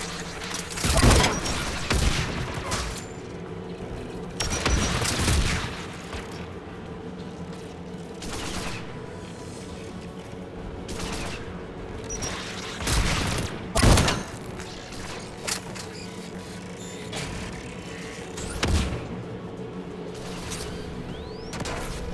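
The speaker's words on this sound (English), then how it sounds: "The guns protecting the tower!" Tower defence guns fire in Mass Effect 3: heavy bursts of gunfire that break out every few seconds over a steady mechanical hum, loud and fairly close, with no voices.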